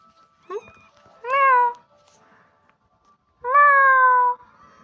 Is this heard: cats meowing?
yes